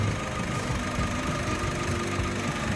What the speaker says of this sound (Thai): เครื่องเดินเรียบเครื่องไม่สั่นไม่สะดุดนะครับ